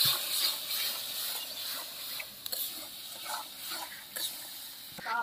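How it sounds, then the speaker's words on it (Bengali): Spice paste of turmeric and salt stir-fried in a pan for a rohu fish tail curry, with steady sizzling and scraping stirs running throughout, close and fairly loud, with no talking. "ভালো করে মশলাটা কষিয়ে নেব।"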